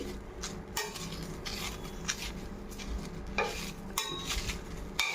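Gongura leaves fry in a pan with soft, low sizzling while a utensil repeatedly scrapes and stirs against the metal, giving intermittent clinks and rubs close by.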